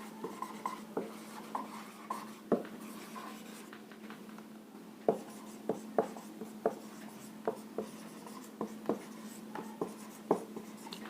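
Chalk or marker strokes on a classroom board during a physics lesson on units and dimensions, with repeated short taps and scratches in an uneven rhythm over a steady low hum, close and fairly quiet, without talk.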